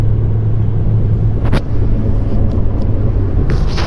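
Engine of a Ford automatic car running with the L low-gear mode engaged, a steady low rumble and hum held at constant revs, close and continuous with a few faint clicks over it.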